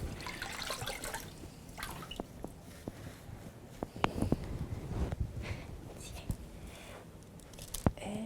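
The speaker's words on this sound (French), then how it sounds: "on va venir l'immerger dans l'eau ou sous le robinet à la maison" Orthopaedic splint material being dipped in water or held under a tap, with soft sloshing, squishy handling and scattered drips and clicks, close and fairly quiet.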